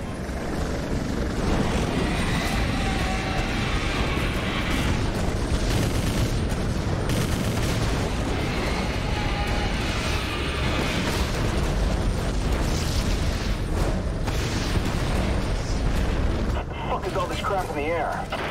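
Prototype 2 combat: a dense, loud roar of gunfire and explosions with a helicopter-like drone underneath, continuous for the whole stretch.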